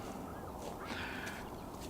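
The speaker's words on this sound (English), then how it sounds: "We can hear some birds, of course." Birds call faintly outdoors in a quiet open setting, with a few thin, distant chirps rising over a soft steady background hush.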